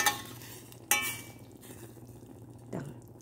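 Leftover cooked squid reheating in a pan gives a quiet stirring scrape with a few sharp utensil clinks against the pan over a faint low sizzle.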